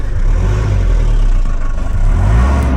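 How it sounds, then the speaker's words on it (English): A 1982 Mercedes-Benz W123 diesel engine revving steadily nearby, a deep continuous drone with slight rises in pitch and no voices. "Let's rev a bit and then shut the engine off."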